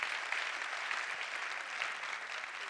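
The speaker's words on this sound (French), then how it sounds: "Par applaudissement, il y a des parents dans la salle?" Parents in the audience of a Parlement du Rire comedy show clap together in a thick, even wash of applause that holds steady from start to finish.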